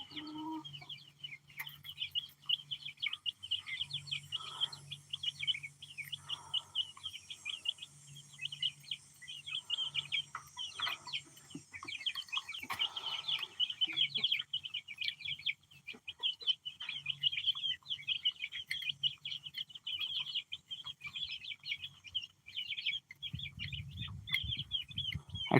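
Chickens and young chicks in a backyard flock that includes a rooster, with steady high chirping and peeping throughout, soft clucks and low murmurs beneath, fairly close and continuous without talk.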